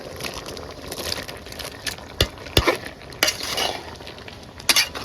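Boiled taro being added to a cooking pan with onion, garlic and spices, then stirred; scraping and clinking of a utensil against the pan with a few sharp knocks over a low sizzle, close by.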